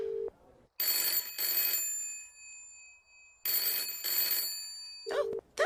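An old-style telephone bell rings in two long double bursts, loud and close, with a short tone and a brief voice near the end.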